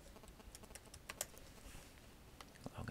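Soft, rapid keystrokes patter on a computer keyboard as a short password is typed, quiet and close with small clicks spaced unevenly.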